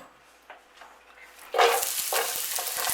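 Chopped onions dropped into a pan of warm olive oil at medium heat burst into a loud, steady sizzle from mid-clip, with a few stirring scrapes, after a quieter start.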